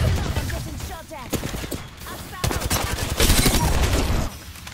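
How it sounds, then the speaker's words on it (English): Dense gunfire in the shooter Apex Legends, with rapid, overlapping bursts of shots and impacts that run almost continuously at close range and build louder toward the end, mixed with game effects. "I'm getting shot at."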